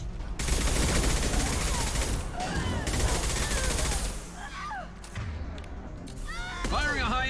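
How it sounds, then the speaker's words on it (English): Heavy rapid gunfire rattles through a firefight in the video game Mass Effect, bursts of loud shots with thuds and impacts, easing briefly before more firing, while voices speak over the combat. "Firing a high impact shot"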